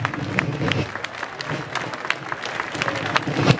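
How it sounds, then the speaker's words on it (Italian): A crowd applauds at an outdoor Festa della Repubblica celebration in Saronno. The clapping is dense and sharp, with louder bursts near the end and some talk mixed in. "Un applauso perché la zona d'atterraggio non è delle migliori"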